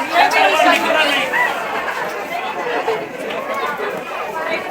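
Dense crowd chatter from many voices at the Jejuri fort temple steps, a continuous close babble of pilgrims talking throughout.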